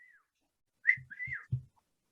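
A person whistles a few short tones in quiet surroundings, with a brief high note, a sliding phrase and a couple of low thumps beneath, close and clear.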